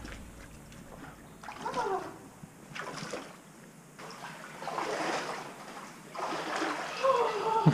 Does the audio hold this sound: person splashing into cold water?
yes